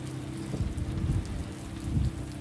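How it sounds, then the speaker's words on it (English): Rain falling in California, a steady hiss of drops with a low rumbling undertone and a few heavier swells, heard on its own without voices. "Thought it never rained in California."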